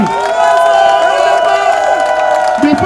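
A large crowd at an outdoor gathering cheers and shouts loudly and continuously, with clapping mixed into a dense, sustained roar and some tonal noise running underneath.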